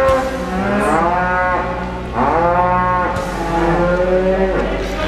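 Beef cows in a summer field moo loudly and close by, two or three long drawn-out calls following one another with no talk over them.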